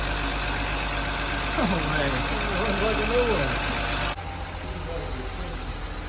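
A manual BMW E46 engine idles with a steady rough rumble and faint knock; someone speaks briefly over it before the sound drops slightly.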